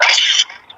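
One loud, close sneeze bursts out sharply, then fades into near silence.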